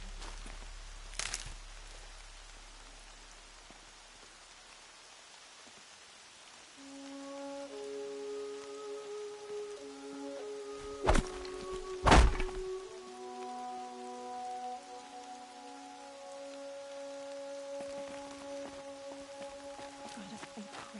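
Steady rain patters throughout in the video game Horizon Zero Dawn, joined by sustained tonal music swells and a couple of brief louder hits midway.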